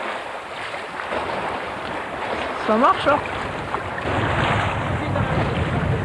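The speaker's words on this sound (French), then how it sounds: "vu qu'il y a du vent, beaucoup de vagues toujours" Strong wind buffets the microphone over the wash of waves at sea during a kayak event, with a brief spoken phrase in the middle and a rising roar toward the end.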